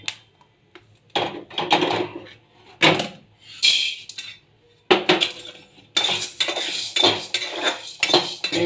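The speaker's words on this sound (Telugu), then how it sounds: "డ్రై ఫ్రూట్స్ దాంట్లో ఒక డబ్బాలోకి కలుపుకొని ఇప్పుడు పడపడ అంటున్నాయి." Dry fruits shaken in a tin box, rattling in loud bursts of clattering and clinking separated by short pauses, close up with no voices.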